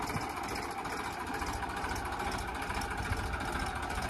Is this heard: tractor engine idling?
yes